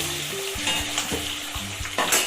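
Potatoes frying in plenty of hot oil in a home kitchen, a steady close sizzle with a few clinks of stirring and a brief louder burst of spatter near the end.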